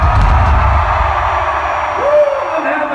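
A large outdoor amphitheater crowd at a concert in Mansfield, Massachusetts roars and screams in a loud, sustained wall of noise, with individual yells and a rising whoop cutting through near the end.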